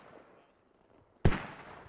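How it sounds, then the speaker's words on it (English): A single militia mortar round slams onto the base in the SquadOps military shooter: a sharp, heavy blast bursts out of quiet battlefield ambience and rolls off in a long rumbling tail. "are those militia mortars landing on the base?"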